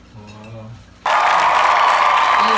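Applause breaks out suddenly after a quiet moment of talk at a small anniversary gathering, a dense steady patter of clapping that continues loud to the end.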